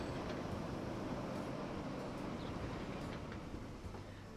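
A train rumbles steadily in Transport Fever 2, a low, continuous rolling roar of railroad cars, fairly loud and even, with faint higher clanks scattered through it.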